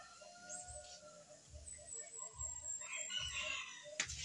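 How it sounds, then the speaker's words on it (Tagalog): A tamed wild jungle fowl rooster crows outdoors, a faint and somewhat distant call with low thumping and background noise around it. "Kasi palagi yung tumitilaok"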